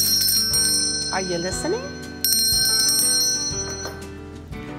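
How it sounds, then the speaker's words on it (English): A small hand bell in a one-room schoolhouse rings with bright, sustained metallic tones that are struck again partway through and linger, while someone speaks briefly over the ringing. "you will also see a small bell. This was used to get children's attention during the day."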